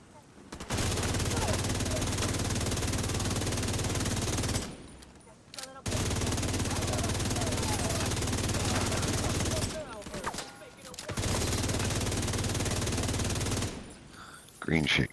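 Sustained bursts of automatic gunfire in the shooter game Into the Dark Scout 3, three long loud stretches of rapid shots separated by brief pauses.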